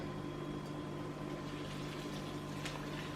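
Melted Kofa is poured into a container, a faint continuous liquid trickle under a low steady background hum with a slight tick near the end.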